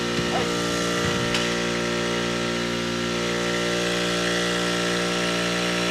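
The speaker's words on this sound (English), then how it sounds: "it's like these beach buggies with their generators" A beach buggy's generator runs loud and steady, a constant droning hum with a brief clatter early on, filling the whole stretch without a break.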